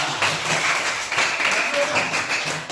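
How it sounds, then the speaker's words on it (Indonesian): A classroom of students claps hands together, a dense, loud patter of many overlapping claps close by with faint voices mixed in. "Tepuk tangan dulu."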